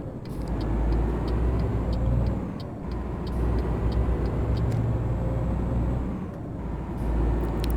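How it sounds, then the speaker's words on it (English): A truck engine in the video game Euro Truck Simulator 2 rumbles steadily and loudly, with a low droning throb and occasional swells, and no voices. "Kinda like the way this truck sounds."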